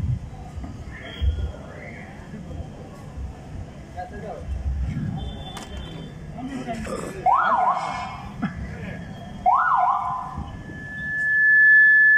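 A newly donated modern ambulance at a community handover ceremony in Adirampattinam sounds its siren: two short rising wails, then a sustained steady tone near the end, heard over crowd noise and someone speaking on a loudspeaker.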